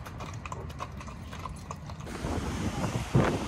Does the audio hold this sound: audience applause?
no